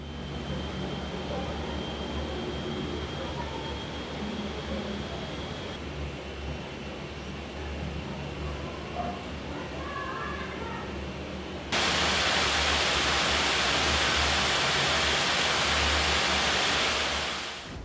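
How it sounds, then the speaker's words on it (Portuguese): Cooling fans of a gaming laptop roar with a steady broadband whoosh like a jet turbine, growing noticeably louder and brighter partway through as they spin up, with faint background sounds underneath. "você começa a ouvir as ventoinhas trabalhando"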